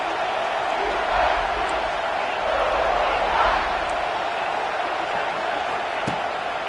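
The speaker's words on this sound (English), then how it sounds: "how nice is it to have the home crowd going absolutely bananas" A home crowd at a football game roars in a steady, loud wash of cheering, with swells of noise and occasional shouts throughout.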